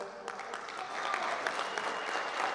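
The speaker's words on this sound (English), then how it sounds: "Round of applause for these 5 guys." Crowd clapping for the five players named to the All-FBA first team at an awards ceremony, a brisk burst of applause that builds within the first second and continues steadily.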